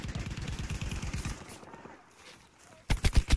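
Rapid automatic gunfire from a multiplayer shooter game, with a fast burst of repeated shots up front, a short lull, then a few heavier booming shots at the end, close and loud.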